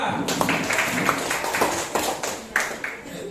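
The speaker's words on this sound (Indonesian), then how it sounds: "Tepuk tangan untuk kelompok 2" A classroom of students claps for a group coming forward to present, scattered and uneven hand claps at moderate volume with voices chattering underneath.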